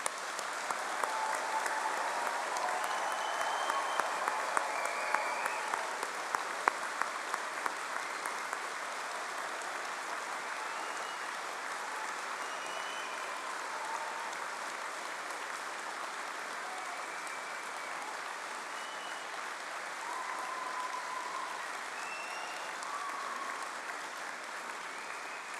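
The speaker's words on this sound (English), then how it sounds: "let's start today's ceremony by giving all of our amazing graduates a huge round of applause" An audience at a London graduation degree ceremony applauds the graduates: sustained, even clapping from a large crowd in a hall, steady throughout with no voices over it.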